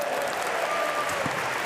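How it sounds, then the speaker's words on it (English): An arena crowd at an Olympic men's weightlifting final in Paris breaks into steady, dense applause after a good lift, sounding fairly distant and even throughout. "Warm applause from the crowd, they like it."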